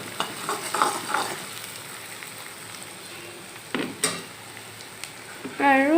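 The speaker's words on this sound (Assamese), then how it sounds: "সেইখিনি অলপ টাইম গোন্ধটো যোৱালৈকে অকণমান ভাজি থাকিম" Crushed ginger and garlic fry with onions in a pan, stirred now and then, giving a low steady sizzle with a few spoon scrapes and clinks, mostly without talk.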